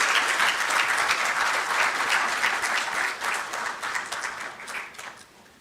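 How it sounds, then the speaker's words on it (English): Audience applause greets the Chief Justice of Ghana at his swearing-in ceremony, a dense sustained round of clapping from a large crowd that holds steady, then thins and fades toward the end. "Shall we please welcome him with an applause"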